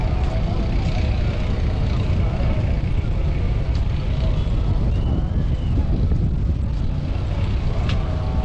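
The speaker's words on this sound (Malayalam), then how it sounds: "വെയിലുണ്ടെങ്കിലും നല്ല തണുത്ത കാറ്റടിക്കുന്നുണ്ട്" Cool wind blowing outdoors on a sunny day at the Ram Mandir in Ayodhya, a steady, loud rumbling gust buffeting the microphone without pause.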